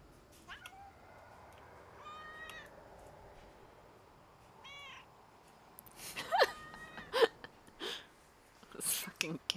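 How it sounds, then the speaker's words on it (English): A cat meows several times, short tonal cries spaced apart, close and clear, with people talking quietly between and over the calls. "This fucking cat."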